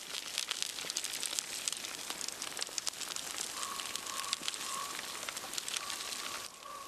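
Campfire crackling steadily as trout cooks over it in wintry Alaska, dense close pops and snaps in a continuous sizzling wash with no voices.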